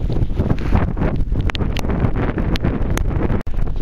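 Strong wind roars across an open field in the UK during a rainy, hail-laden outing, buffeting the microphone loudly and steadily throughout, with scattered rustles and taps.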